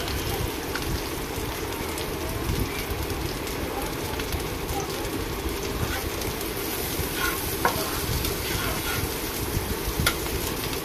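Goat meat cooks in a pan with a dense, continuous sizzle and the scraping of stirring, close and fairly loud for the whole stretch, and no clear speech.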